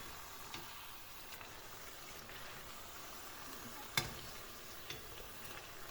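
Beignets (bugnes) frying in hot oil give a faint, steady sizzle with a few soft ticks and one sharper crackle, with no voices.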